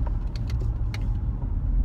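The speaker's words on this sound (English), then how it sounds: "I'm driving in circles right now" A car drives along steadily with a low engine and road rumble heard from inside the cabin. A few faint clicks and rattles come through over it.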